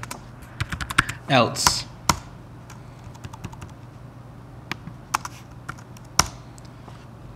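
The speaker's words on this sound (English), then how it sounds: "So, I'm going to go here and type" Quick bursts of keystrokes clatter on a computer keyboard as C code is typed in Xcode, sharp close clicks in uneven clusters with short pauses, a brief word spoken near the end.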